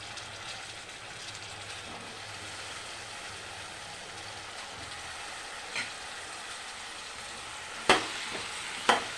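Brinjal pieces frying in a pan for vankaya curry give a steady, soft sizzle with occasional faint stirring scrapes and two sharper clinks near the end; no one speaks.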